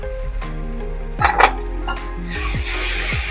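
Fish pieces coated in turmeric and salt fry in a pan, with a steady loud sizzle under clattering utensil scrapes and a couple of sharp metallic knocks, while a tonal hum runs throughout.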